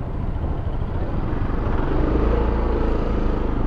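A 2025 SYM ADX TG 400 adventure scooter, 400cc, accelerating on the road, giving a steady loud engine rumble and drone that builds slightly in intensity over a few seconds, with no talk.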